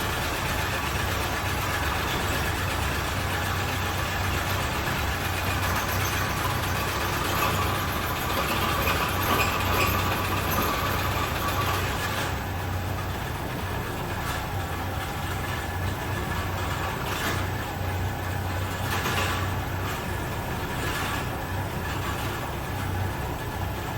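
A 1974 Chevy C20 squarebody truck with a burnt-out clutch, revived after sitting 25 years in the desert, runs at a steady idle with a continuous low rumble and some knocking, no voices.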